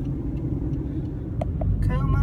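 Road traffic rumbles in a low, continuous drone of car engines nearby, with a person's voice breaking in briefly near the end.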